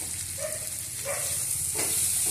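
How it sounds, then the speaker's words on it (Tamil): Dried anchovies fry in oil with a constant bright sizzle and hiss, close up, with faint stirring knocks and a low background hum, and no talk over it. "கருவாடு எண்ணெயிலே நல்லா வதங்கி வெந்துருச்சு"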